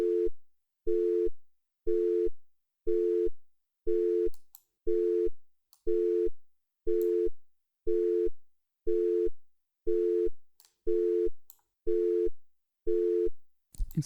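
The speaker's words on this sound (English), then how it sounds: "multiplying the synth tone by that LFO creates a busy line tone sound" A synthesized telephone busy tone from a MetaSound PhonePad demo, built by gating a synth tone with a square-wave LFO: about fourteen identical short beeps in a steady on-off rhythm, clean and alone.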